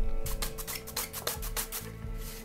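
A drill-driven drum sander with a 60-grit roller abrades a wooden workpiece, a close, rough scraping rasp in rapid uneven strokes over a steady motor whine, with no talking.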